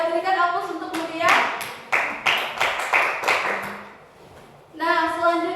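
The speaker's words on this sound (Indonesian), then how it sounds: "Berikan aplaus untuk Mutia." Classroom applause for a student, a short burst of clapping hands from a group, with a voice speaking before and after.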